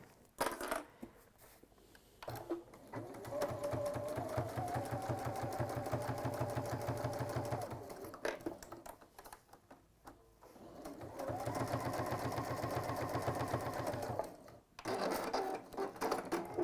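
Sewing machine stitching through several layers of slightly stretchy quilted PU fabric, running in two steady, close bursts of rapid needle chatter separated by a short pause.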